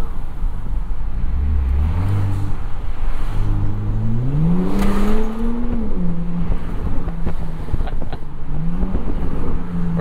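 A Bentley W12 engine revs and accelerates through rising pitch sweeps, then settles into a steady drone before climbing again, heard loudly from inside the car.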